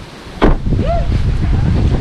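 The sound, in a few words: strong wind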